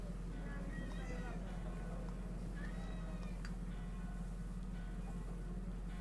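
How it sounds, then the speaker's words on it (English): A pet cat meows loudly from behind a closed door at night, with several drawn-out cries rising over a steady low hum and people talking nearby. "Our cat is yelling at us."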